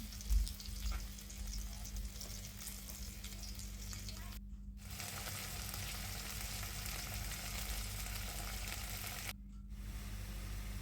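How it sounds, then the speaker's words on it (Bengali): Fish frying in hot oil makes a continuous, close sizzle with a steady hiss, cut by two brief silent gaps and broken by a low hum underneath. "মাছগুলো ভেজে নিলাম।"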